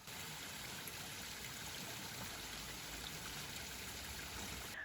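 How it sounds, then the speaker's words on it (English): Steady, gentle rush of water streaming and trickling over rocks along a hiking trail in Corsica, close and continuous with no voices, a soft even babble throughout. "we just stumbled upon these rocks with water streaming, and it's really pretty and the most peaceful sound"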